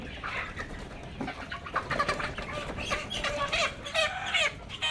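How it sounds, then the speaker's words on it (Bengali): Super hybrid parent-stock chickens raised for breeding, a flock clucking and chattering steadily together at close range with no talk. "আমাদের সুপার হাইব্রিডের প্যারেন্টসের জন্য যে মুরগিগুলো দিয়েছিলাম"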